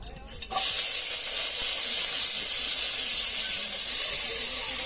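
Peppers fry in sesame oil in a makeshift tent kitchen in Gaza, a loud steady sizzle that bursts in after half a second and holds close and constant, with faint stirring beneath.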